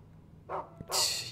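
A dog barks in the video game Rule of Rose: two short bursts about half a second apart, the second louder and longer, over a faint background hum.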